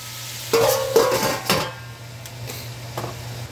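Beef browning in a pan for stew sizzles faintly beneath a few sharp clinks and scrapes of a utensil against the pan, with a steady low hum in the background.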